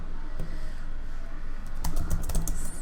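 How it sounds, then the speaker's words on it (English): Fingers type briefly on a computer keyboard, producing close, crisp key clicks that cluster into a quick burst near the end over a steady background hum. "I'm going to type something like my new post."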